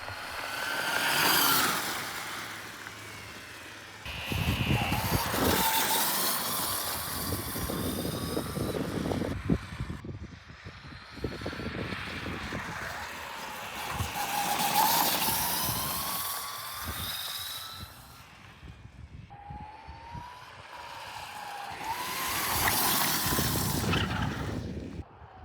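A home-built electric go-kart is ridden, its motor whining up and down in rising and falling sweeps across several passes, with tire and wind noise swelling loud and fading between runs.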